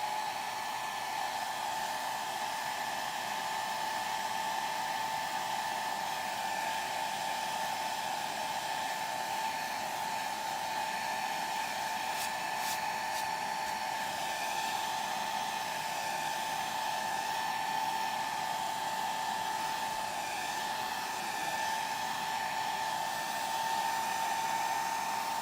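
A hair dryer runs continuously to dry watercolor paint on a flower painting, a loud, steady whirring blow with a constant whine and no pauses.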